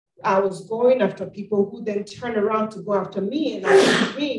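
A single sharp sneeze from someone in the audience of a lecture, heard near the end over a woman's continuous amplified speech.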